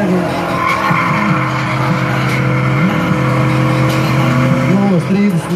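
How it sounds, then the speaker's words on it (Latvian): A BMW drift car at a Latvian drift championship round in Jelgava revs loudly and steadily, its engine note rising and falling in repeated swells as it enters the track, with a commentator talking over the constant roar. "Tātad nākamais BMW, iebrauc atbaudīt savu sniegumu."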